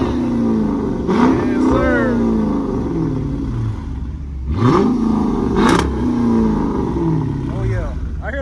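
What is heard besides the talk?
Chevrolet F-body Camaro engine revving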